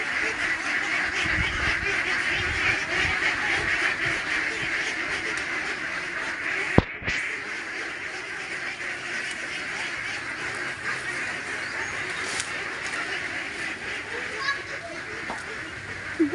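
Pet ducks in Davao quacking in a flock, a busy overlapping chorus of calls close by, continuous throughout, with people talking over it.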